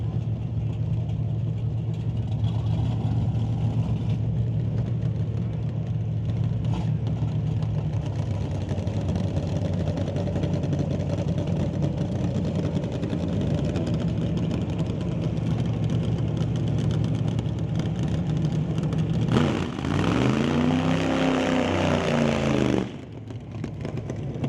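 A nitro-burning NHRA drag racing car sits fired up, its engine a steady, loud drone throughout, broken near the end by a brief surging burst of throttle before settling again.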